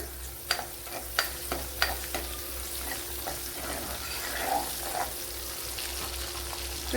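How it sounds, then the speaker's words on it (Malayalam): Garlic and green chillies fry quietly in coconut oil in a pan for chicken curry, a soft continuous sizzle with a few sharp utensil clicks from stirring. "ഒന്നര ടേബിൾ സ്പൂൺ വെളിച്ചെണ്ണയാണ് ചേർത്ത് കൊടുത്തിട്ടുള്ളത് അതൊന്ന് നല്ലതുപോലെ ഒന്ന് മൂപ്പിക്കണം"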